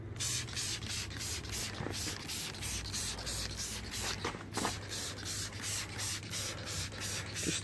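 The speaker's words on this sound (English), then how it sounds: "And spray a bit there as well on this other seat." Water spritzes from a spray bottle onto a car seat's fabric upholstery during a vomit and drink spill cleanup, a run of short hissing bursts in a steady rhythm, close and moderately loud over a low hum.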